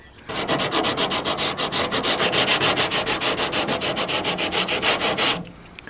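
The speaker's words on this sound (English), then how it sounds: "what I'm going to use to file the edges are these small sanding blocks" A small sanding block rubs the edges of a car bonnet vent on a Ford Focus Mk3, a loud, fast, regular back-and-forth scraping of about twenty-five strokes that then stops.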